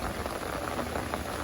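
Steady rain pours outdoors at Bell Church in Baguio City, a constant, even hiss of falling drops heard from under a shelter with no talking.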